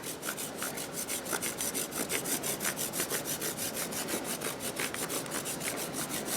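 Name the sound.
grating a chocolate bar with a grater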